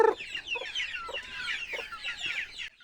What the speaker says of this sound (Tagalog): Nung medyo madilim na nga ay nagsiyapan na ang mga cockerels.